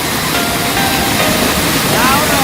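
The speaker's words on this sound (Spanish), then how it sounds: "estamos en la cascada de Pumapacha" Pumapaqcha waterfall near Ayacucho, early in the morning: a steady, loud broadband rush of falling water that fills the whole scene without a break.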